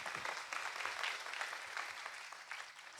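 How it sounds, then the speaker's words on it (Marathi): An audience at a kirtan claps together in sustained, fairly distant applause, an even wash of many hands lasting a few seconds with no talk over it. "आमच्या सगळ्या छोट्या महाराजांसाठी एकदा टाळ्या झाल्या पाहिजे"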